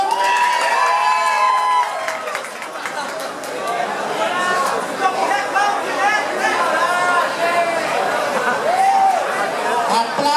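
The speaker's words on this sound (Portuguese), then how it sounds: "Aplausos aqui." Crowd noise at a dance club party, with chatter, shouts and scattered cheering and clapping carrying on steadily throughout, voices rising over the din.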